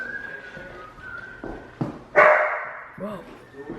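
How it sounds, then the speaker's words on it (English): Dog barking in a house, likely shut in the garage, a few muffled barks and whimpers at a distance, with a loud sharp bark midway, under quiet background noise and footsteps. "So they left their dog here."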